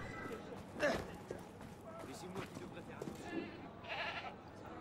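A goat bleating in the Assassin's Creed Unity game: one short nearby bleat early on, then softer scattered bleats and shuffling hoof-like sounds over quiet game ambience.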